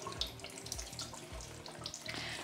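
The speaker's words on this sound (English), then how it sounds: "I'm just going to kind of just hose off the leaves." Tap water runs steadily in a sink, splashing over the leaves of a calathea plant being rinsed off, a close, continuous rush with no talk.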